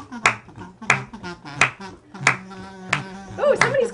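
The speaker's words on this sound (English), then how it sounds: "Oh, somebody's clapping along with you" Sharp hand claps or snaps keep a steady beat, about one every two-thirds of a second, fairly close. They ride over background music and voices during a live online auction.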